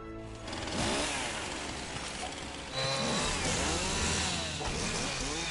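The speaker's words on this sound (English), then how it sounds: "Is this a chainsaw?" A chainsaw weapon in a video game snarls loudly and continuously, a harsh buzzing roar that surges louder partway through, with no talking.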